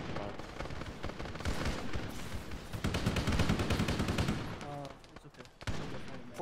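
Enemy gunfire in Arma 3, a Halo-themed military game, crackles in dense, continuous bursts of rapid shots that stay loud and close nearly throughout, with a voice heard amid the shooting.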